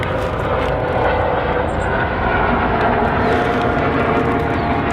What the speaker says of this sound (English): A helicopter there.